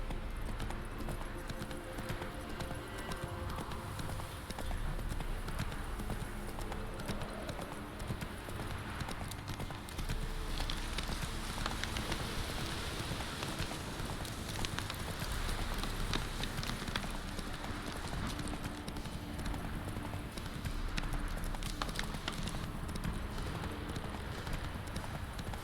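The horse Roach galloping in the video game Witcher 3, a rapid continuous drumming of hooves under a rushing background of wind and game ambience, steady throughout with no clear speech.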